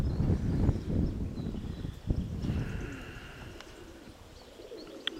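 Pigeons coo in low, soft murmurs close by, mixed with rustling and a few brief chirps, then the sound thins to quieter cooing over a faint background hum.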